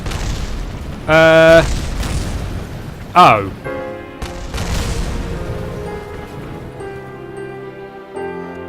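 Explosions in the video game Kerbal Space Program: loud booming bursts near 1 second and 3 seconds, followed by crackling debris and tonal game sounds, with someone talking and exclaiming throughout.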